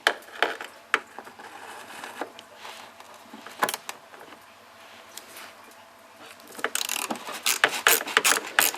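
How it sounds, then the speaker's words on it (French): A ratchet clicks in short bursts with pauses and small metallic taps between them while a screw is worked loose from a BMW E46 headlight unit, growing busier and faster near the end. "Donc voici la vis en question. Je vais essayer de le dévisser sans..."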